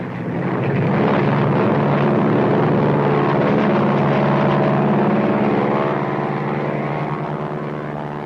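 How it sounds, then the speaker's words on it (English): An airplane in flight, a steady loud engine drone that stays even for the whole stretch with only a slight swell and fade, heard continuously and close, as if from inside the aircraft, with no talking. "What's our altitude? You tell me. Level off, Nick"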